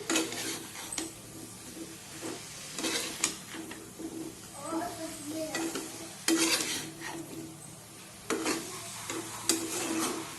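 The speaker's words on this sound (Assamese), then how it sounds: "চব্জিখিনি ভাজি দিম।" Vegetables frying and being stirred in a pan: a steady sizzle with repeated scraping strokes and the clink of a utensil against the metal, close by and with no talk.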